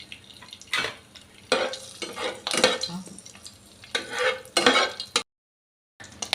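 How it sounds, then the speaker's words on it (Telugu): Cinnamon and cloves fry in hot oil with bursts of crackling sizzle and scraping stirring in a pan, loud and close, then a short silent gap near the end. "అలానే ఈ చెక్క లవంగా బాగా ఫ్రై అయిపోయాయండి."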